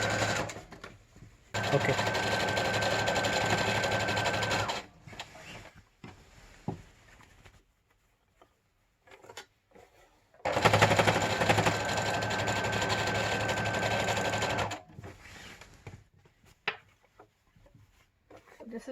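An electric sewing machine stitches the seams of a PPE surgical gown in two long steady runs of close, even whirring, with quiet handling and a brief spoken word in between.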